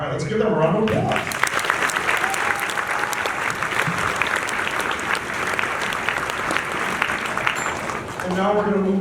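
An audience applauds a 5th grade school band at a demonstration concert, with dense steady clapping for several seconds, framed by brief talk at the start and end.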